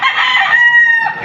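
Young rooster for sale at a Padre Garcia, Batangas chicken market, crowing one loud, close, ragged call that fills the whole moment.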